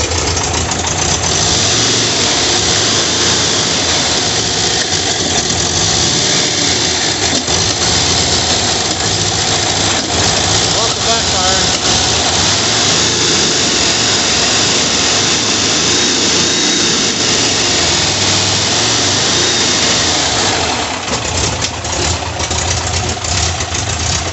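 A hot-wired air-cooled engine in a 1982 VW Vanagon Westfalia runs steadily and loudly at idle throughout, a dense continuous rumble close to the microphone with no speech.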